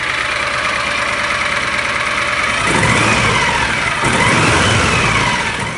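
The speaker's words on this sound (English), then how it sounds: "I'll go ahead and rev it up a little bit and see what it sounds like" A John Deere Gator 625i utility vehicle fitted with a homemade welded quiet auxiliary muffler idles loudly and then revs twice, each rise in engine pitch swelling and easing back, close and continuous with no talking.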